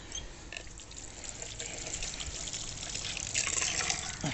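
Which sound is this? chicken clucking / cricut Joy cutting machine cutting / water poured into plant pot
water poured into plant pot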